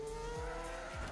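An F1 car in the F1 Manager 22 game loses the rear at Baku, giving a sustained tire squeal with falling sweeps over a steady engine drone, with no talking.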